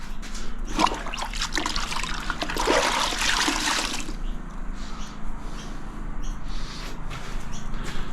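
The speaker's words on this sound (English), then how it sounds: "Wash my hands." Hands are washed under running water after mixing screed in a bucket, with splashing and gushing for several seconds, then a quieter trickle and drips.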